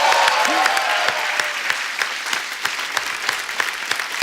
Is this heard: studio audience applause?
yes